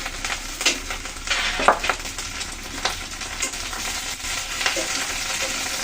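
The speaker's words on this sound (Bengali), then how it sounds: "আমি কিন্তু হাঁড়িতেই ভাজছি" Onions sizzle steadily in a pot, with intermittent scraping and stirring sounds over the constant fry; no one speaks.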